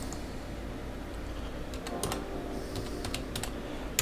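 Someone types on a computer keyboard while setting up a Windows server. The keys make quiet, close clicks in irregular bursts over faint background hum, with no speech.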